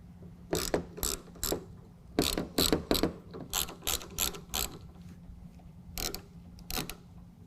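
A T30 driver ratchets bolts loose on a tonneau cover rail of a 2019 Ram 1500, making quick bursts of close, crisp clicking separated by short pauses.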